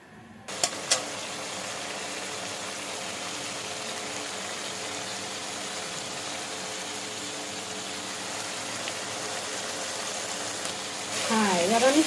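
Prawns fry in oil in a kadai, giving a steady, even hiss that holds at moderate level throughout, with a brief clatter near the start and a stir toward the end.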